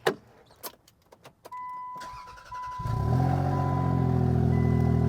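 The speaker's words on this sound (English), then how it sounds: "Over the winter, the exhaust leak came back in full force," A few clicks and a starter whir, then a Land Rover Freelander engine with an exhaust leak catches and settles into a loud, rumbling idle with a raspy, puffing exhaust note.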